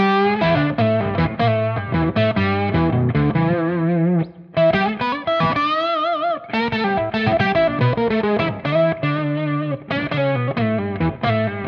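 A Flattley The Generator fuzz pedal with its ringer switched on plays an octave-style synth guitar line, producing dense distorted chopped notes in a fast rhythmic pattern, loud and alone, with one brief sustained gap.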